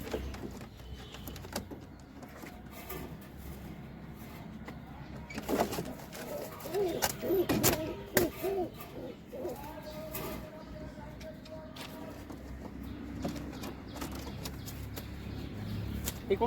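Pigeons in a coop, several of them sick, coo softly in a few rounded warbling phrases around the middle, over faint background noise and rustling, with someone talking.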